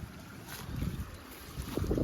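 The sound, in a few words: wind in a farm field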